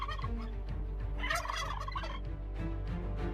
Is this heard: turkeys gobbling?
yes